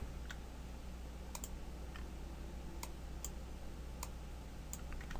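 Sparse, crisp clicks from a computer keyboard and mouse during Cinema 4D animation work, about a dozen faint taps at irregular intervals over a low steady room hum.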